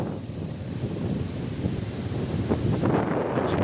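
Strong wind buffets the microphone at Damas beach in Karanggandu, Watulimo, Trenggalek, with big waves rumbling and surging underneath, a constant low roar that grows slightly louder toward the end.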